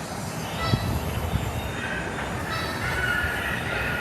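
A train passes in New York, a steady rolling rumble with faint metallic wheel squeal, heard at moderate distance and continuing throughout.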